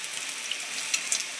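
Food fries in well-heated oil in a home kitchen, a soft continuous sizzle with a few small crackles and pops, fairly quiet and with no voices over it.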